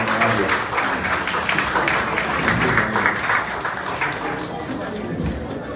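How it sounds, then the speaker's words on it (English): A crowd claps steadily at a memorandum of agreement signing, dense and continuous applause that holds for several seconds, tapering only slightly near the end. "A round of applause, please."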